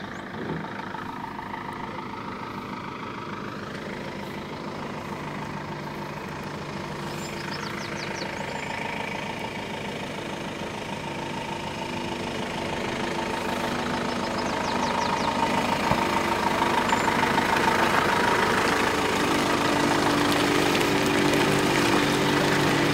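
A Bimobil MAN 4x4 off-road camper truck drives off-road near Bad Kissingen, its engine a steady, close diesel drone that grows gradually louder partway through.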